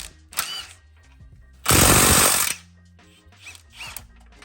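A powered socket tool briefly buzzes on 19 mm control arm bracket bolts of a Honda Civic Type R, a short loud burst between quieter clicks and workshop handling noises.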